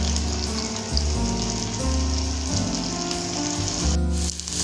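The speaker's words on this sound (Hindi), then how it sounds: "अब हम इसको फ्राई करेंगे।" A cheese and vegetable paratha frying in a pan, a dense close sizzle with crackling oil over a low hum, steady and fairly loud, dipping briefly near the end.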